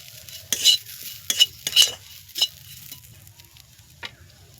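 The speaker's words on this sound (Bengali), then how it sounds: "দিয়ে দিলাম বেসন, দিয়ে আবার এইভাবে সুন্দরভাবে নাড়তে থাকবে।" Bitter gourd stirred with gram flour in a pan, several sharp scraping and clinking strokes in quick bursts over a faint low hum, then quieter, close and with no voices.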